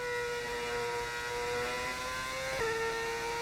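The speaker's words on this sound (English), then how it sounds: "Is the engine a little too loud, or is it fine?" Steady high-revving whine of a Formula 1 car engine in an F1 video game, rich in harmonics and rising slowly before a sharp drop in pitch at an upshift, running continuously without speech.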